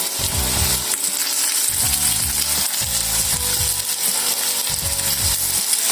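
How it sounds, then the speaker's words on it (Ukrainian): Steady loud sizzling of liver frying in a hot pan, with repeated thumps and scrapes as pieces are moved and turned. "обжарю, щоб вони не розвалювалися"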